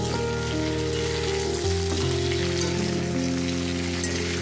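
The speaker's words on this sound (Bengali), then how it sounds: "এখন হচ্ছে ফুলকপি ভাজা।" Cauliflower pieces fry over low heat in mustard oil seasoned with bay leaf and cumin, giving a steady, dense sizzle that runs unbroken throughout with no voices.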